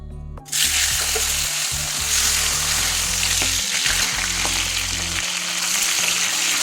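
A fish head frying in hot oil: a loud, steady sizzle that starts abruptly and crackles continuously, with a faint low hum underneath.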